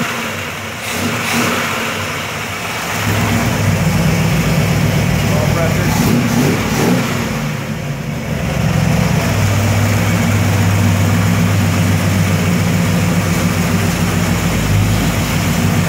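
Big Block Chevy engine on a 2016 Tom Lawson car, loud and close, idling with a rough rumble that swells into a revving burst midway, then settles back to a heavy idle.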